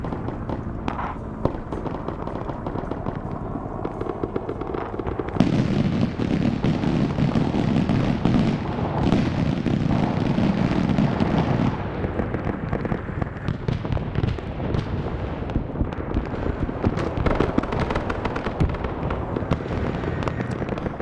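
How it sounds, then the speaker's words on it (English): Artillery fire in the Arma SOG Prairie Fire video game during a defense of Khe Sanh: dense, continuous rumbling booms and crackling blasts, loud and sustained throughout, with a heavier low-end stretch in the middle. "By now, artillery should be pretty dialed in."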